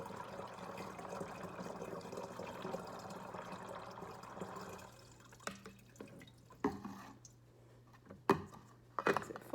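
Water from a tap runs steadily into a gallon container for about five seconds, then stops, leaving scattered drips, clinks and small handling knocks close by.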